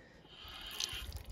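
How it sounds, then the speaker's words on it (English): Water runs from a tap at an old site along the Arizona Trail while a container fills, a steady hissing rush with a brief brighter splash partway through, heard close with no talking. "I'm gonna fill up some water."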